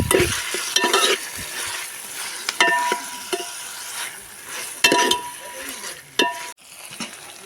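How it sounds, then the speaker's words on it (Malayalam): Green chilies, ginger, garlic and curry leaves sauté in a pan with a loud close sizzle, broken by repeated scraping stirs and light clinks of the utensil against the pan. "നന്നായിട്ടൊന്ന് വഴറ്റിയെടുക്കാം."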